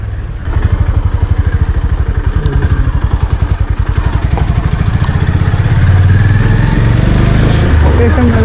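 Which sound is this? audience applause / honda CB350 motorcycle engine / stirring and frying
honda CB350 motorcycle engine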